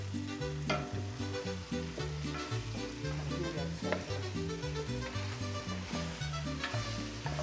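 A steady sizzle of chopped pork shoulder frying in a pan, with a looping bass-heavy music track playing loudly over it the whole time.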